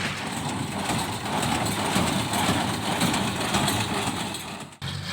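A tractor-driven hay baling machine drones steadily with a dense mechanical clatter as it makes bales, loud and continuous, dipping briefly near the end.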